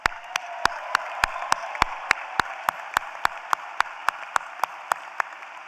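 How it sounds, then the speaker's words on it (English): Sparse, evenly spaced claps, roughly three per second, ring out clearly for new U.S. Armed Forces officers at a spring engineering commencement ceremony, each sharp hand clap standing alone over a faint hall ambience, with no talking. "Let's give all these new officers one more round of applause."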